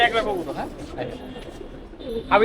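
Soft pigeon cooing in short repeated phrases, close by, with people talking over it.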